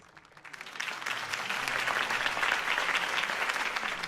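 A crowd in Batman: The Telltale Series applauds after Harvey Dent's campaign speech; the clapping swells quickly from a low start into sustained, dense, loud applause.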